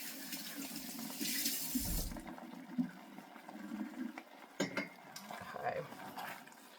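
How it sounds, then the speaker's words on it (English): Water runs from a kitchen tap while a small bowl is rinsed, a steady broadband rush that stops about two seconds in, followed by quieter clinks and dripping handling sounds. "Let me rinse my little bowl out."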